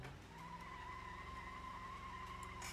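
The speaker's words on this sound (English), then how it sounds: "See if we can just do a burnout." Sustained tire squeal from a taxi doing a one-wheel burnout in BeamNG.drive while its engine overheats, a steady high screech over a constant engine drone, loud and close, with no talking.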